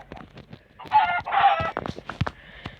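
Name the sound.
chicken clucking in Minecraft video game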